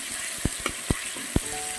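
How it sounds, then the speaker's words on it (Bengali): Boiled taro greens frying and being stirred in a pan, a low steady sizzle with a few sharp spatula scrapes and knocks spaced irregularly, close and moderately loud, no voices. "আর দিয়ে দেব সেদ্ধ করে রাখা শাকটা। এবার এটা ভালো করে নাড়িয়ে চাড়িয়ে খুব সুন্দর করে শুকাবো।"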